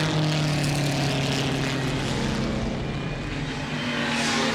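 A vintage racing car engine at Goodwood Revival drones steadily and loudly throughout, with a high supercharger whine riding over the deep engine roar.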